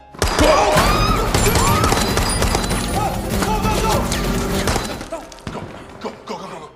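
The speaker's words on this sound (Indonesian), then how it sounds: "mereka berhasil ditemukan oleh Cohors dan adu baku tembak pun terjadi" A film shootout erupts in loud, dense bursts of gunfire and impacts mixed with crashes and a dramatic soundtrack, thinning out toward the end into scattered thuds.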